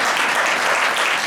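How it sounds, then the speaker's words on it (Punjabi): A church congregation claps together at a Sunday holy communion meeting, producing a dense, loud burst of applause that fills the short moment. "ਤਾਲੀਆਂ ਤੁਹਾਡੀਆਂ ਕੌਣ ਲਾਇਆ?"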